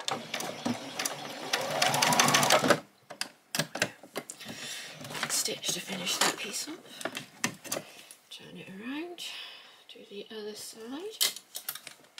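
Sewing machine stitching along the edge of a fabric bag, with rapid mechanical bursts that start and stop in short runs, heard close and fairly loud between stretches of a person talking.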